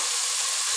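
Cauliflower, potato and egg fry steadily in a pan, giving a continuous close hiss of sizzling oil that holds even throughout, with a brief scrape at the end.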